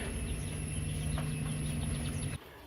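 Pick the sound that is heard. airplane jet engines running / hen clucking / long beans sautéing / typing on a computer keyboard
hen clucking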